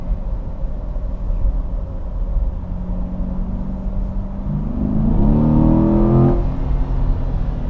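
A 2020 Chevrolet C8 Corvette sports car idles with a steady low rumble, then revs up sharply, rising in pitch before dropping back, loud and close.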